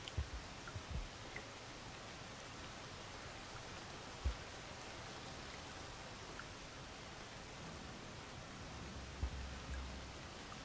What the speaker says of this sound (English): while waiting for the rain to stop